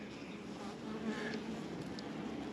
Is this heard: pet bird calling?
no